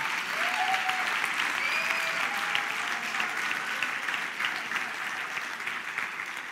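Steady, dense applause from a large audience, clapping continuously at an even level throughout with a faint whoop or two above it.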